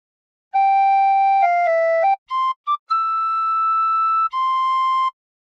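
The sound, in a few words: tin whistle playing Battle Hymn of the Republic phrase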